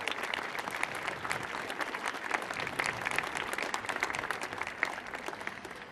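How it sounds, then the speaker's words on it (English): Steady audience applause at a flute and banjo jamboree concert on a public stage, a dense, fairly distant wash of many hands clapping continuously at moderate volume with no voices on top. "Can we give them a round of applause?"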